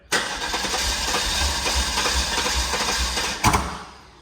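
Guanci SSJ prototype engine cranking over steadily for about three seconds, then a sharp pop backfiring through the intake manifold near the end before the cranking dies away.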